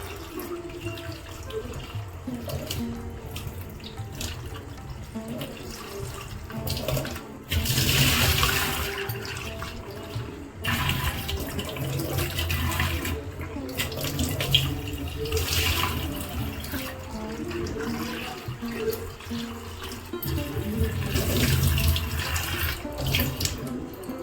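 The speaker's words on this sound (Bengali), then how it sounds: "পটলগুলো ভালো করে পরিষ্কার করে জলে ধুয়ে নিতে হবে" Pointed gourds being washed under a running tap, a steady rushing stream with splashing surges as the vegetables are rinsed and turned, close and continuous for the whole stretch.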